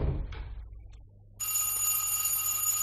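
A telephone bell rings in an old French mystery drama; after a brief quiet stretch, a bright, steady ringing starts suddenly and continues unbroken to the end, with no talk over it.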